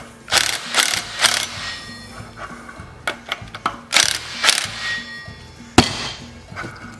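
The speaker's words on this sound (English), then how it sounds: "16mm socket. And then tighten her down." A 16mm socket on a ratchet wrench tightens the left-hand-threaded clutch of a Chinese knock-off Stihl chainsaw, giving sharp close clicks in irregular bursts with clanks and pauses between.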